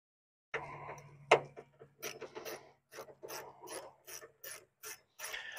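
Screws being tightened into an aftermarket APS billet grille on a Cadillac Escalade project truck, giving a close sequence of short rasping, ratcheting turns with a sharp click near the start.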